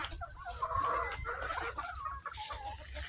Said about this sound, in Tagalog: Pakain ng mga manok